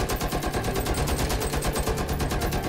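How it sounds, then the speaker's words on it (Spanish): A mounted machine gun in the Rainbow Six Siege video game fires a loud, rapid, unbroken burst of evenly spaced shots that lasts the whole time, heard close with no voices. "te cubre más unos 270 grados de giro con esa ametralladora que lo atraviesa todo"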